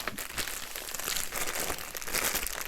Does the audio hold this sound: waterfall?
no